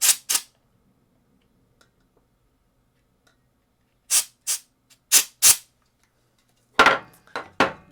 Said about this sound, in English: you're going to use just blast it with canned air